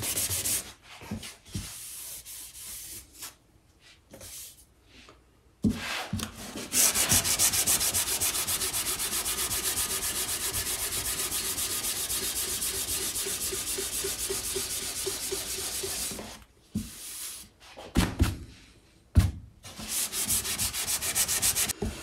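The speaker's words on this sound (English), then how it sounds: "Sands very nicely. It doesn't take much to get a good sanding powder going." Steady hand sanding on acoustic guitar wood: a long, even rasping scrape runs for about ten seconds, bracketed by shorter strokes and pauses, close and fairly loud.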